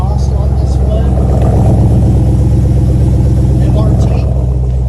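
Dodge Durango SRT fitted with a full custom MRT exhaust idling, a loud steady low burble close by, with a voice speaking over it throughout.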